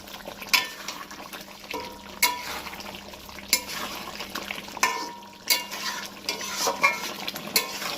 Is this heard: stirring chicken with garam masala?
yes